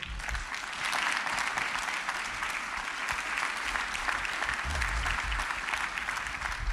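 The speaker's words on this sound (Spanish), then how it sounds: "Dele usted un aplauso al Señor" A church congregation claps in steady applause for the Lord, a dense, fairly even roar of many hands that swells slightly and continues alone without talk for several seconds.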